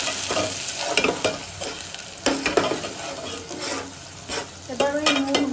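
Fried onion and spices being stirred in a pan for soybean biryani, with a steady sizzle and repeated scraping stirs and utensil clinks, close and fairly loud throughout.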